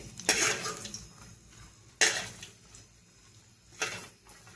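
Fried peanuts being scooped out of a frying pan, three distinct metallic scrapes and clinks of a utensil against the pan, close and fairly loud, with quiet gaps between them and no talking.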